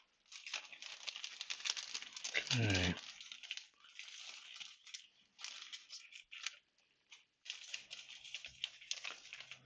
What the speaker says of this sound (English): So I'm going to put one of these in a plastic bag and just break the glass and see what happens.